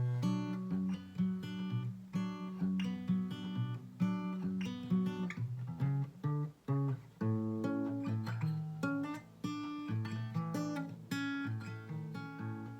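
Acoustic guitar plays the verse of a song at a slow tempo, strummed chords and picked bass notes ringing out steadily and close, with no talking.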